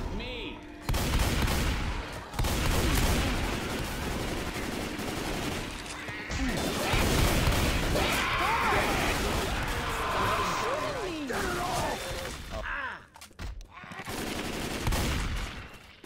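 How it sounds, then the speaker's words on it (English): Sustained gunfire in Left 4 Dead 2 during a chaotic co-op fight, dense rapid bursts and crashing impacts continuing for many seconds with voices talking over the shooting. "You are shooting me!"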